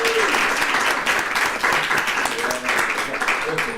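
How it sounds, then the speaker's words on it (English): Conference audience applauding a technician, dense clapping throughout with voices talking over it, fairly loud and close. "A big round of applause for the technician."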